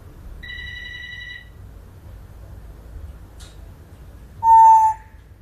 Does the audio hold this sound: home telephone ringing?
yes